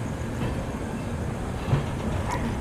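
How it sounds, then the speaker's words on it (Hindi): Ramnagar Dehradun Express train rolling along with a steady, continuous low rumble and rail noise, moderately loud and unbroken throughout, with no talking. "और हमारी ट्रेन बढ़ चली है अपने डेस्टिनेशन की ओर।"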